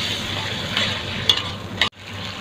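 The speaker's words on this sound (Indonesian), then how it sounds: "kita masukkan air." Water is poured into a frying pan of sizzling spices, including ground pepper, while cooking a stir-fried vegetable dish; an even close sizzle with a couple of brief bursts is then abruptly quieted as the liquid goes in.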